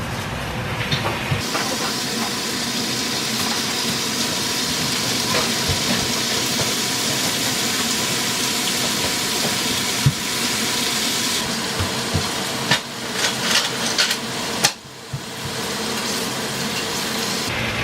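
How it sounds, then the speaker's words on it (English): Two bacon rashers sizzle in a hot pan, a continuous loud hiss and crackle with scattered sharp pops and a few clatters near the end. "Pan's hot, you're going to put your bacon into the pan."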